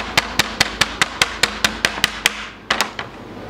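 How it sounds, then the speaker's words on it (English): A hammer lightly strikes fleshy chocker fish strips on a hard surface to soften them for fishing bait, about a dozen crisp, evenly paced close taps, a brief pause, then two quick final blows. "You can take a chocker hammer and just lightly bash them."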